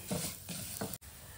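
Sago and vermicelli fry in a pan for payasam, with a soft sizzle and a few short scraping stirs, close and faint, ending in an abrupt cut.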